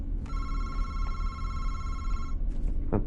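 A telephone rings in the video game MADiSON with one long, bright electronic trill over low background hum, then stops and is followed by brief thuds.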